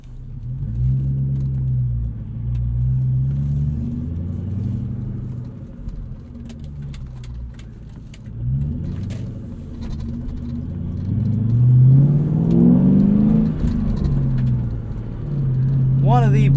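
A 2003 Ford Mustang Mach 1 V8 rumbles steadily while driving, its low engine note rising and falling through gear changes and swelling into a louder rev near the end, heard from inside the cabin.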